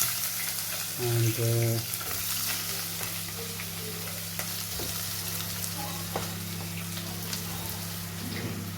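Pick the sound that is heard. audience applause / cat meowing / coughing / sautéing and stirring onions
sautéing and stirring onions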